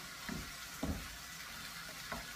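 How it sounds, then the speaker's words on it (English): Gullah shrimp stew with okra stirred in a pot: faint soft scrapes and a few light knocks of the spoon over a quiet, steady simmering hiss, brief and low in level. "Now we're going to stir this around."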